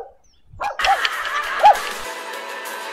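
A person imitates a dog, giving two short yappy bow-wow barks about a second apart, with the vocal yelps rising over a noisy, mid-level background.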